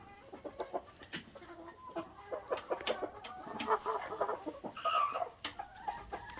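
Thai game fowl chickens cluck near and far, repeated short clucks and calls over a quiet background, with no one talking.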